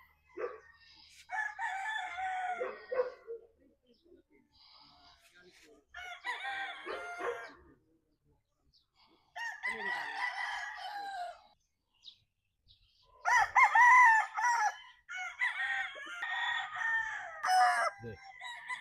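Pure McLean gamefowl roosters crow repeatedly, several long strained calls in bursts with short gaps between them, fairly close and loud, with some clucking between crows and no talk.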